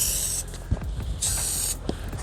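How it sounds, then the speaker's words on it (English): Two short hissing bursts of spray adhesive onto plywood in an RV roof repair, close by, with faint rustling and handling noises in between. "spray adhesive"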